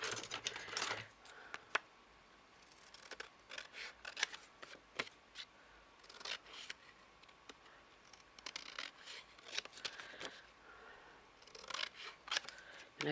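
Scissors snip through paper while a lace book is being made, a run of sharp, close cuts in irregular bursts with brief pauses between them, alone and with no talk.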